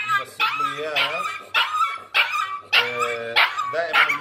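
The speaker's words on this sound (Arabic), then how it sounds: "هذا السبب بيصير يصارخ الكلب" A dog yelps and whimpers repeatedly while receiving a 1 cc vaccine injection under the skin, giving loud, close, high-pitched cries in rapid succession.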